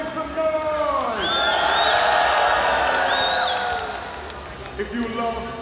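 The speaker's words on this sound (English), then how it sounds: "All the people supporting Liu Shuwen, make some noise" A large table tennis crowd cheers and screams in a sustained roar at an event, swelling loud over a few seconds and then fading, with a voice over a PA shouting above it.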